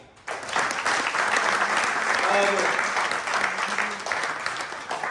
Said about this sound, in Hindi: एक बार पुनः तालियां